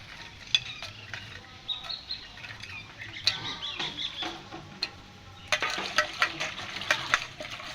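Scaled dried fish is washed by hand in water, with soft splashing, sloshing and scattered clicks that build into a busier run of splashes near the end. The sounds are close and fairly quiet.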